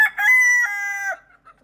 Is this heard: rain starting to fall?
no